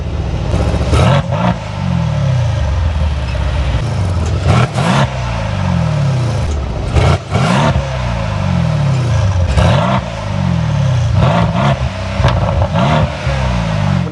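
A Mercedes C63 S AMG engine revs loudly and repeatedly, each blip rising and falling in quick rhythmic pulls with crackling exhaust bursts, close and continuous throughout.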